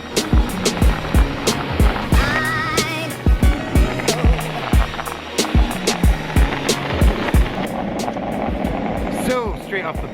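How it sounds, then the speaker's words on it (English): A Koowheel Onyx v2 electric skateboard rolls over pavement, its wheels thumping rhythmically over seams in steady repeated clacks under a rising motor whine, loud and close throughout. "We're gonna give this thing a little throttle and see how she performs."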